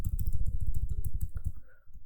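Rapid, steady keystrokes on a computer keyboard while C code is entered, a close run of clicks with soft low thumps for about two seconds.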